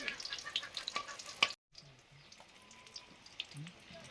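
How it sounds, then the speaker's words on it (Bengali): Soft crackling and sizzling of eggplant fritters frying in oil, brief clatter, then a quieter steady sizzle after a short gap. "এখন বেগুনিগুলো ভাজছি।"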